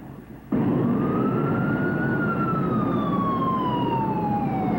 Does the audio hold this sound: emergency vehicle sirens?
yes